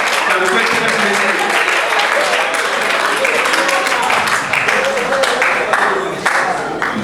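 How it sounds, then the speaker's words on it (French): Conference audience at a Startrunk entrepreneurship event applauding and cheering together, a dense continuous wash of clapping with crowd voices that stays loud and steady throughout. "J'aimerais que vous tapez les mains pour vous, acclamez pour vous-même ce soir."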